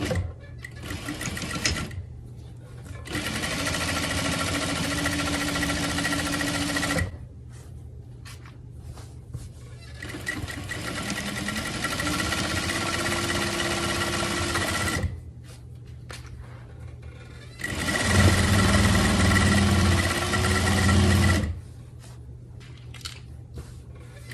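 A sewing machine stitches fabric for a dress in three long, steady whirring runs of several seconds each, close and even, separated by quiet pauses with faint handling noise.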